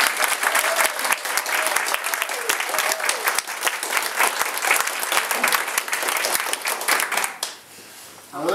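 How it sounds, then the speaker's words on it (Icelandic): Dense, sustained applause from a large audience at an Icelandic gathering, loud and steady for about seven seconds before dropping off abruptly into quieter room sound. "gott klapp fyrir þeirra framlega vinnu."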